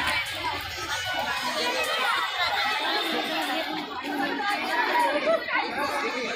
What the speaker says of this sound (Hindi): यहाँ बहुत भीड़ भी है